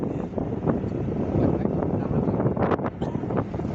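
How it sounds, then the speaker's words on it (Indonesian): Wind buffets the microphone on a road trip to Pagindar, a steady rough roar with gusty surges throughout, fairly loud. "angin lagi."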